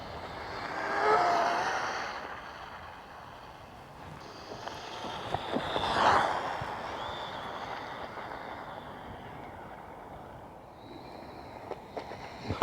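A WLtoys 124017 RC car running fast on a smooth surface with a few bumps, its high electric whine swelling and fading as it passes, fairly faint and alone.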